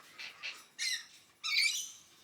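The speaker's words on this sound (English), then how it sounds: "There's birds either end here." Pet birds in a home give four harsh squawks, two short ones and then two longer, louder calls, close by with quiet gaps between them.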